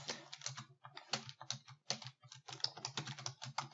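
Rapid typing on a computer keyboard while entering data in an Excel spreadsheet, a steady close run of quick clicky keystrokes in short bursts with brief pauses, no talking.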